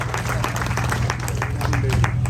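An audience at an outdoor community gathering in Karuma claps in a short, lively burst, the clapping close and dense over a steady low hum, with voices mixed in.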